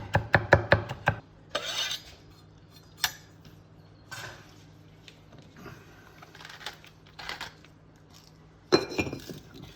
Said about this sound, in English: So chop that fairly finely